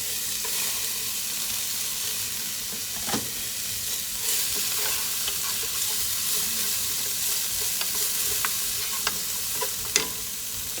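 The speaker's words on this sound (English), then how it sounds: "I'm gonna cook the shredded carrots first" Shredded carrots stir-frying over medium heat in a pan make a loud, continuous sizzle, broken by occasional scrapes and taps of the stirring utensil.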